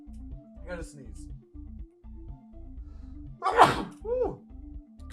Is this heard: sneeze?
yes